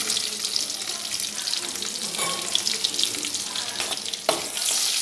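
Slit green chillies hitting hot oil in a pan used to fry pointed gourd for a Bengali curd-based curry: a steady, dense sizzling hiss with a few sharper crackles, close and continuous.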